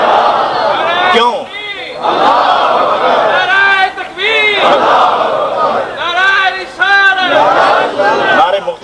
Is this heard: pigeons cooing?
no